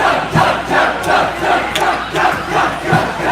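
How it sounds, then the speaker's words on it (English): Immanuel Lancer fans in a school gym at a volleyball match against Whitehall chant and cheer in loud, rhythmic crowd bursts, several swells in quick succession, with no talk over them. "Sounds like the Immanuel Lancer fans are getting pretty pumped up right now."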